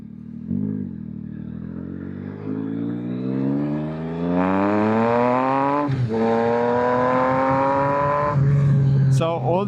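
A 2024 Yamaha XSR900 motorcycle with a flashed ECU revs up through a strong rising pull, engine pitch climbing steadily over several seconds, then dropping and climbing again with a gear change, loud and close, ending in a settled drone.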